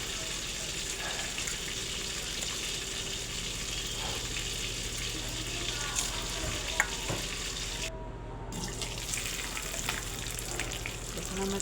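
Chicken masala mixture with coriander leaves being stirred in a hot pan, giving a steady, close frying sizzle with occasional utensil scrapes and a brief dropout partway through.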